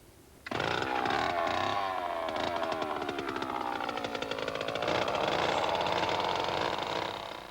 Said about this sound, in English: eo Christiansen of the University of Iceland is using a cylindrical drill to extract a core sample for analysis in the laboratory.